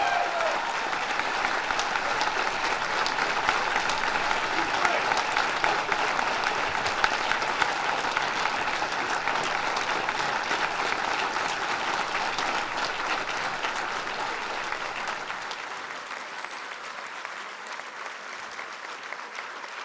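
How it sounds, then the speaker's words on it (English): A crowd at a police merit awards ceremony gives a long, sustained round of applause, dense and loud for most of twenty seconds before easing slightly toward the end, with no speech over it. "Let's give him another round of applause."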